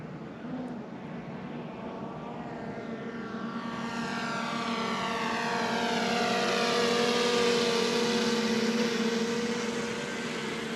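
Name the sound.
camera drone flying overhead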